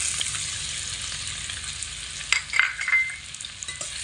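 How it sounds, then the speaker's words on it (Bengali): Chopped ginger frying with garlic in hot oil, a soft steady sizzle with a brief louder burst of crackling and stirring midway, close and alone without speech. "আদা দিয়েও রসুনের সঙ্গে ভালো করে ভেজে নেব।"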